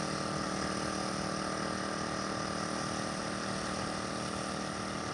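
A 13 ft motorboat engine runs below half throttle, giving a steady, unbroken drone with a constant level throughout and no talking.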